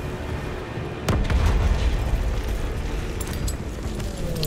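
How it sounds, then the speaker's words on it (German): A grenade explodes in Call of Duty WWII with one sudden, loud, deep boom about a second in, then a rumbling tail that fades into continuous battle noise. "Granate!"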